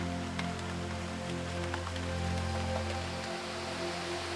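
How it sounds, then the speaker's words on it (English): Steady rain falls through the dense Daintree rainforest in tropical Australia, a constant soft hiss of drops on foliage with a low continuous hum underneath, no voices. "This constant rain is why such dense rainforest flourishes here."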